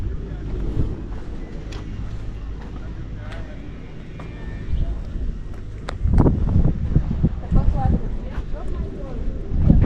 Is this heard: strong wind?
yes